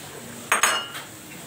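A spoon clinks twice in quick succession against a pan as cabbage, onion and yellow carrot are mixed in, a brief close metallic clatter over low background hiss.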